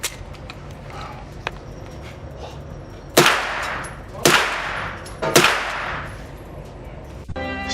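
An AR9 rifle fires three sharp shots at a shooting range, spaced about a second apart, each a loud crack with a short ringing decay over faint background noise.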